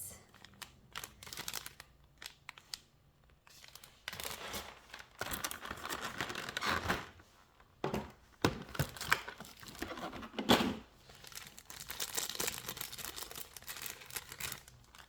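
A doll is pulled free of crinkly plastic packaging, with bursts of crackling, rustling and tearing plastic separated by brief quiet pauses, close and moderately loud without speech.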